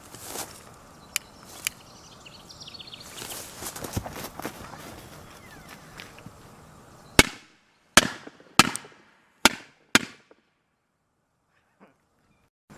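A small firecracker lit with a lighter blows up inside a nearly closed shoebox. Several sharp, loud bangs burst out in quick succession after a stretch of rustling and handling noise, then everything falls quiet.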